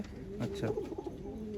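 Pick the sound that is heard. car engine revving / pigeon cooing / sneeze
pigeon cooing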